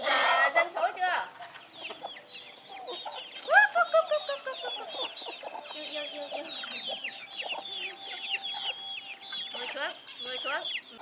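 A flock of short-legged jungle crossbreed chickens cluck and chatter close by, with busy overlapping calls and a louder burst near the middle, while people talk faintly in the background.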